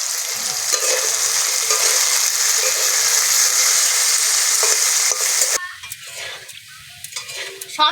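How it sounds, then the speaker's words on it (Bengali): Potatoes fry in oil with salt and turmeric, sizzling loudly and steadily up close with scraping stirs, before the sizzle drops away near the end to sparse clinks and clatter. "সামান্য একটু হলুদ দিয়ে আলুগুলো লাল লাল করে ভেজে নেব।"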